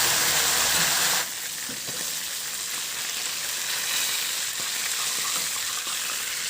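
A loud frying sizzle of fish crackles at first, then drops to a quieter, steady hiss and popping in a pan.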